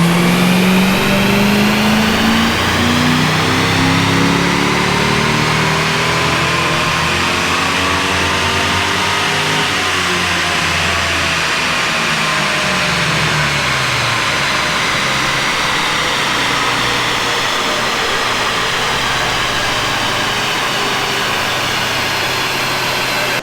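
A Holden Statesman with a bolt-on exhaust and no tune roars steadily on a dyno, loud and near, its drone climbing and holding for a long sustained pull with no talk.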